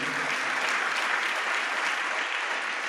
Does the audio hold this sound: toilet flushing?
no